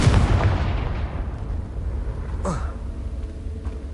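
A Confringo fire spell explodes in Hogwarts Legacy with a loud broadband blast at the start, then a rumbling tail and a brief whooshing sweep midway, while a voice talks throughout.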